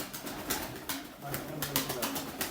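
Old-lineage Arab pigeons coo repeatedly nearby in soft low throaty calls, with faint background noise between the calls.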